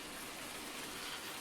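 Rain falling in the Farming Simulator 19 farming game, a steady, dense, even hiss of rainfall with no breaks and no voices.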